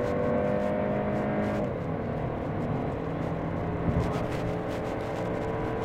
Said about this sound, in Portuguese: escutar um pouquinho o ronco do carro